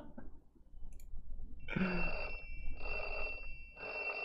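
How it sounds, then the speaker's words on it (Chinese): A phone ringing in the video game Otaku's Adventure comes in as three loud repeated bursts of a bright electronic ring with short pauses between them, close and clear over a faint background hum. "这时呢，电话响起来了。"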